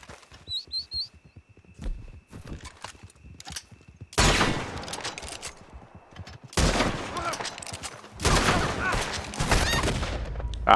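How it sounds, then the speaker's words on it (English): Explosive-round gunfire in the Red Dead Online video game: loud bursts of rapid crackling shots in several long volleys, with sparse quieter pops and faint birdsong chirps in the quieter stretch at the start. "he's using explosive rounds"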